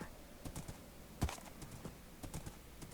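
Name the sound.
horse hooves in video game Minecraft Dawncraft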